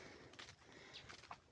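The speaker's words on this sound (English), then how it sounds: "The sounds that you are hearing is the animals, birds." Birds calling beside a quiet nature road, faint scattered chirps and short calls over a soft, steady outdoor background.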